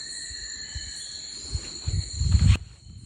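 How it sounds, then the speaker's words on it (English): A little tinamou, a ground-dwelling bird, calls at night on a hike in the Northern Range, a thin sustained whistle carrying from a distance over steady insect drone, with faint footsteps and rustling nearby. "That is a little tinamou. It's a ground dwelling bird."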